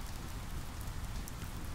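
Steady rain pelting down around a campfire shelter in a fern-filled forest, drumming on the roof in a dense, continuous patter, fairly quiet and without pauses.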